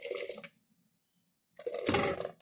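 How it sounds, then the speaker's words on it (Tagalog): Water pours or runs into a cooking pot in a burst, stops for about a second, then resumes, louder and splashier than before, with no talking over it. "naglagay ako ng tubig"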